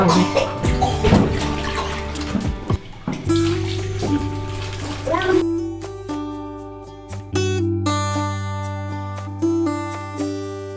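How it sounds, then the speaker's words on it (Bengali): Black taro leaves are washed by hand in water in a village kitchen, with loud, steady splashing and running-water noise that continues throughout. "এখানে আম্মু এই কালাকচুর পাতাগুলো একদম ভালো করে পরিষ্কার করে না ধুয়ে নিছে"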